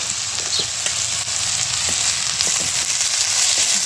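Onion frying in oil in a pan on a wood-fired village stove (chulha) while poha is being made makes a continuous, loud, close sizzle with faint scattered scrapes and no voices.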